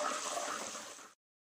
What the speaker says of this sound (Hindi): थोड़ा सा पानी डाल के भून लें।